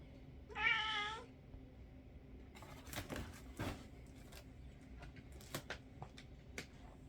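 A cat gives one clear, fairly close meow near the start, followed by quieter scattered taps and rustles in a hushed room.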